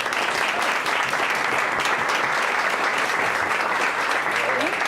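Audience applause fills the room at a Women in Sales startup week event, a dense, steady clapping that holds at even loudness throughout without any speech over it.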